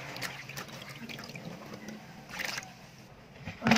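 Tap water runs and splashes steadily as sapsap fish are rinsed by hand in a home kitchen, a continuous close trickle with small surges and no talk.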